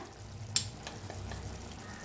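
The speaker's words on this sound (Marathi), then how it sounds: "आता भाजून घेऊया मसाल्याला" Spices with red chili powder, garam masala and coriander powder roast in hot oil, a low soft sizzle with one sharp click of a spoon near the start and faint stirring scrapes after, close by.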